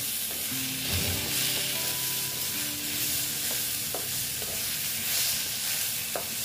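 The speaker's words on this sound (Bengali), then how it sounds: "দেখো এইভাবে একটু নেড়ে চেড়ে নিচ্ছি।" A spoon scrapes and turns a spiced vegetable mixture frying in a pan for a vegetarian Malabar spinach dish, with an ongoing soft sizzle and intermittent stirring clinks.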